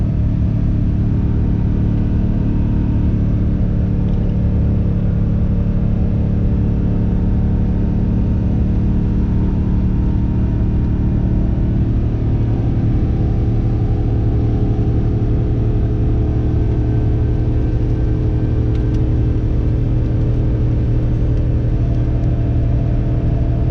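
A 2004 Chevrolet 2500HD pickup with the 6.0 gas V8 and 195,000 miles, climbing mountain roads at full throttle, gives a loud, steady low engine drone and rumble that holds unbroken throughout, with no talking.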